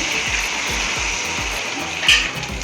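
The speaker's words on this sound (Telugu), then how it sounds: "3 గ్లాసులు బియ్యానికి 6 గ్లాసులు నీళ్లు పోతున్నామండి." Water is poured into a cooking pot for fish biryani, six glasses for three glasses of rice, a steady gushing splash with a rhythmic glugging pulse, close and continuous.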